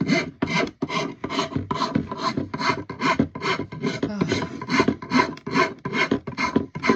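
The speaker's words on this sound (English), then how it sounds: "the rasp takes it off pretty fast, actually" A rasp shapes a hickory axe handle in fast, even back-and-forth strokes, about two per second, each a loud coarse scrape of wood held close by, with no talking.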